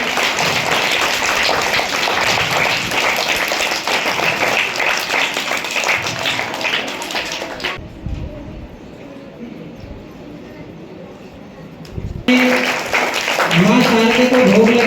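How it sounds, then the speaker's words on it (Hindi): An audience at an Independence Day school event applauds loudly while a lamp is lit, dense clapping for several seconds, then a quieter pause, then more noise and crowd voices. "एक बार जोरदार तालियां बजाएं।"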